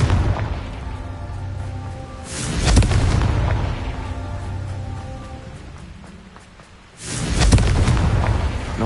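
Confringo spell blasts in Hogwarts Legacy: two heavy booming explosions a few seconds apart, each a loud rumbling burst that slowly decays, over a low continuous background rumble.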